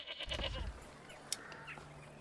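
Goat bleating on a backyard extension farm in the medieval city-building game Manor Lords, a single fairly faint bleat near the start followed by a quiet ambient bed with a few small clicks.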